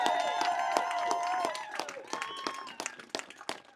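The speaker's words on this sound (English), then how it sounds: "Can we give a huge round of applause back there to Marcia Howard" Crowd clapping and cheering at a union rally outside the Minneapolis VA Medical Center, a dense burst that thins into scattered claps with speech over it.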